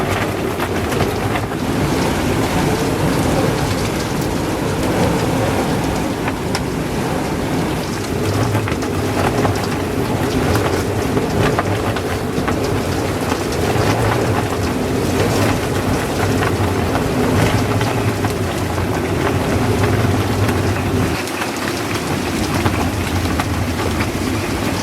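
Gale-force wind gusts batter an anchored boat, a loud, constant roar of wind and rain-like rushing that fills the whole stretch with steady intensity and no speech.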